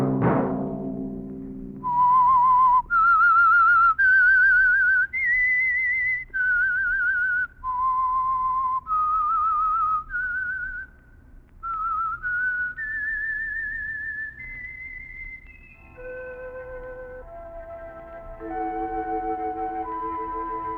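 A lone whistler carries the theme tune of The Whistler radio mystery show, a slow, clear melody of sustained notes that glide between pitches, heard alone with nothing else under it.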